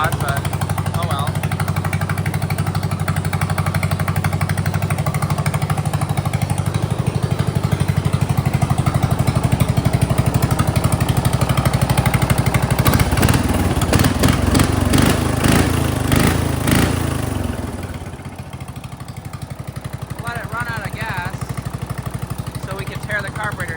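A riding lawn mower engine fitted with a performance exhaust runs steadily and loudly throughout, a throaty low drone with a brief burst of rapid revving and clatter before settling back to a constant idle-like rumble.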